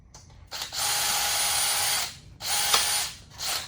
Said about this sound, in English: I don't know why I'm wasting my time drilling it out